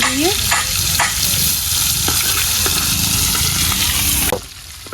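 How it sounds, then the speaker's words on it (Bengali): Hilsa fish fries hard in a pan to a crisp finish, a loud, steady crackling sizzle running almost unbroken with a few sharp pops and stirring scrapes, then dropping away near the end. "মাছ একেবারে কড়া কড়া করে ভাইজে নিমু"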